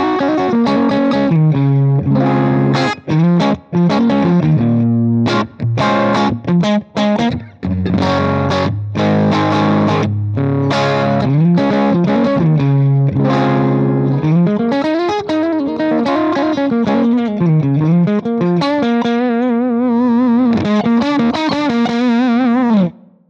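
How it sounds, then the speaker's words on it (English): A Stratocaster on its combined middle and bridge pickups plays through a Tweed Deluxe amp at the edge of breakup, with gritty slightly overdriven chords and bending single notes ringing out loud and alone for over twenty seconds. "if you use say the middle and the bridge pickup combo on a Strat and you clean it up, you get this"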